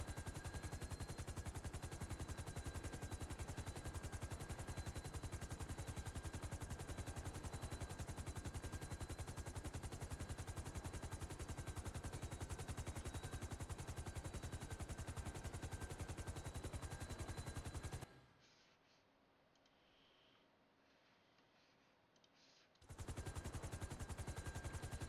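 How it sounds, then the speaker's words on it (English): A magazine being emptied in a GTA roleplay game: loud, continuous automatic gunfire that rattles steadily for most of the stretch, stops abruptly into near silence, then resumes at full volume. "Yo, stop mag dumping."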